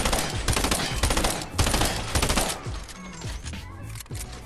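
A burst weapon fires in Fortnite, loud rapid volleys of gunshots cracking in clusters, strongest in the first half-second-long runs and then trailing into sparser, quieter shots and clanks toward the end.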